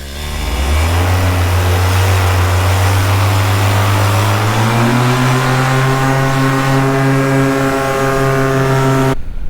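A paramotor engine runs loud and steady close by, holding a constant drone before its pitch steps up midway, then cutting off abruptly at the end.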